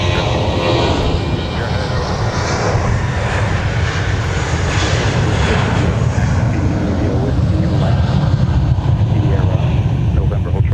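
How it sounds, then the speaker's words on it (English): A United Airbus A320 roars down runway 12 right at a busy airport on departure, a loud, steady engine rumble that fills the whole stretch. "here's United departing off runway 12 right with an Airbus"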